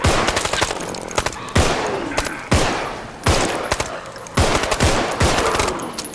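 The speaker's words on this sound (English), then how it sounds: "Assault rifles are the best." Assault rifle fire in the zombie shooter Contagion rattles out in five loud bursts, each opening with a sharp crack and trailing into rapid shots and reverberation, with brief gaps between bursts.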